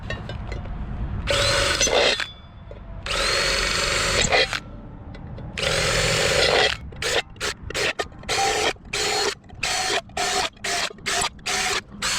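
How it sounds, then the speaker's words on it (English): A power drill whines through the top of a steel can in several long bursts, then in a rapid series of short repeated pulses, loud and close. "make quite a few holes on the top here by just drilling down through"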